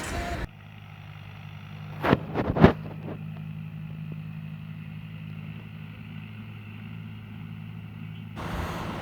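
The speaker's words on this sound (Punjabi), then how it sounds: "ਇਹ ਆਪਾਂ ਨੂੰ ਟਰੈਕਟਰ ਮਿਲਿਆ ਸੀ ਏ ਮਾਡਲ 6530 ਉਹ ਵਾਹ ਕੇ ਵੇਖਣ ਲੱਗੇ" A model 6530 tractor engine idles with a steady low drone throughout, punctuated by a couple of sharp knocks early on.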